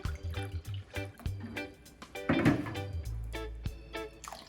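Water poured from a tap into an empty tomato sauce can in a kitchen while cooking baked kafta, a series of close, irregular splashes and drips with short pauses between them.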